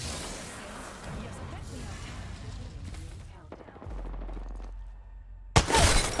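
Gunfire in the video game Apex Legends during a team fight: a dense, continuous run of shots and mixed game effects under speech, ending in a loud close burst.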